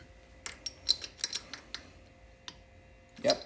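A torque wrench clicks in quick, faint snaps while tightening the head bolts on a 1986 Honda ATC 200x during a head gasket job, sharp ticks close by, then a louder clunk at the end.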